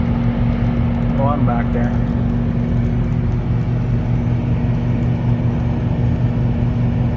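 A Dodge Ram V10 engine labours while towing a camper up a big hill, a loud constant low rumble and drone from inside the cab, with someone talking briefly over it early on.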